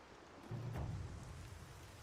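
Rain falls steadily in a stormy scene in the video game Horizon Zero Dawn, a soft broadband hiss with a brief low rumble of thunder near the middle, faint and without talk.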